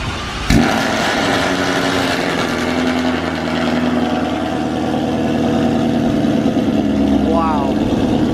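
A supercharged S550 Mustang engine starts with a sharp burst, then settles into a loud, steady, rumbling idle with faint voices talking nearby.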